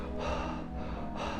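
Relaxed breathing through a loosened throat, shown as an example of breathing for cycling: two broad, smooth, unbroken breath sounds close to the mic, with no talk.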